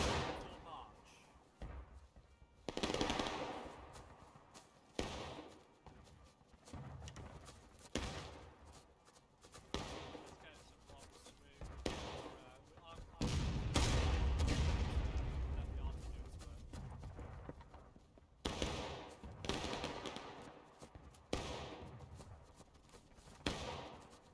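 Musket volleys in the Civil War game War of Rights during a multiplayer event battle, with booming bursts of fire and scattered shots rising and falling beneath steady commanding voices over voice chat.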